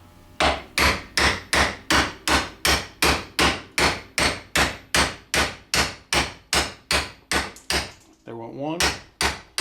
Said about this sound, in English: I'm going to go ahead and beat these bearings here out.